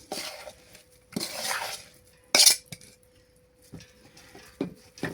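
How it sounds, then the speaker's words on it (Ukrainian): Chopped zucchini is mixed with salt and onion in a bowl, with intermittent wet scraping bursts and sharp utensil clinks against the dish, close and clear in a quiet room. "Все це добре перемішую."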